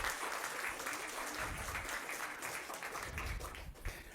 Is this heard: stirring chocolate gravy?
no